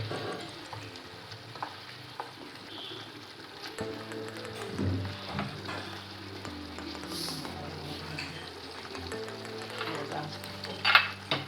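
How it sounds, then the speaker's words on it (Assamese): Mutton rogan josh is stirred in a cooking pot, with intermittent scraping and stirring strokes over a soft background sizzle, close and moderately quiet, picking up briefly near the end. "10 মিনিটৰ মূৰে মূৰে মই এনেকৈ লৰাই আছোঁ"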